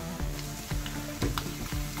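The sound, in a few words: mutton meat frying in a pan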